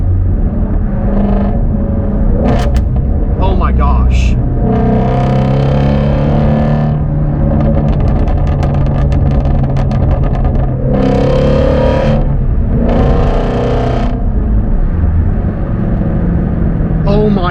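A Ford Shelby GT350 V8 revving hard several times, each loud rising roar falling back to a rumbling idle between bursts, close and powerful, with brief talking over it.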